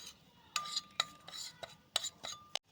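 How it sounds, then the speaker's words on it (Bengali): A spoon stirs ground spices and cornflour in a bowl for sweet potato fries, making quiet, rhythmic clinks and scrapes against the bowl at close range. "এবার একটা চামচের সাহায্যে সব উপকরণ মিশিয়ে নিতে হবে ভালো করে।"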